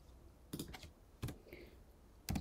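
Keys on a computer keyboard are tapped in a few short, sharp clusters of clicks, close and fairly quiet with pauses between bursts.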